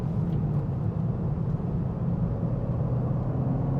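BMW M2 G87 with a 460 hp engine cornering hard on the Chang circuit race track, a steady, loud low engine drone and rumble that holds continuously throughout without pause.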